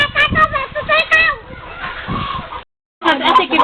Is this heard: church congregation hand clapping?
no